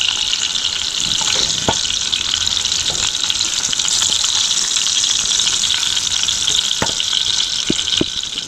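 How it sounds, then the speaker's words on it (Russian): Vegetables fry in a pan at a riverside camp, a loud, close, continuous sizzle with occasional clinks and taps of stirring. "Овощи жарю по очереди, потом просто смешаю и все."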